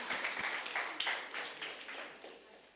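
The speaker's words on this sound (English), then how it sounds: "Please give them a clap, round of applause." A faint, distant round of applause rises from an audience at a religious teaching session, with scattered clapping that thins and fades away over a few seconds.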